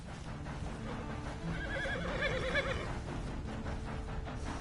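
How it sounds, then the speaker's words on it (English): A horse in Red Dead Redemption 2 gives a single wavering neigh in the middle, heard alone over a low game background. "Then you better get on this horse."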